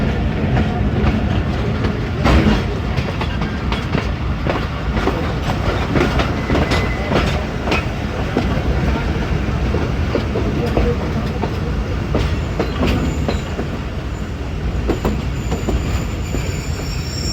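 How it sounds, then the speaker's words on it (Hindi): Jaffar Express passenger train running onto the main line, a steady loud rumble with rhythmic wheel clatter and occasional squeals, heard from inside the moving train. "और मेन लाइन पे चढ़ रही है जी हमारी ट्रेन वापस"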